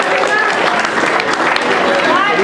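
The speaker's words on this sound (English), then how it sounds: "Let me hear you clap on platform 1" Crowd clapping and cheering at a USAPL raw national powerlifting meet for an American record squat on platform 1, a dense, steady wash of applause filling the hall with voices mixed in.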